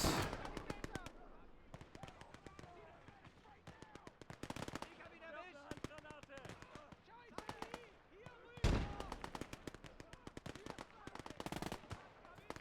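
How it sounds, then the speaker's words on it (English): Dense bursts of machine-gun fire and sharp gunshots crackle through a World War II battle in Gates of Hell, with heavier booming blasts from artillery support, near and loud, in uneven rapid volleys with speech mixed in. "Even have artillery support."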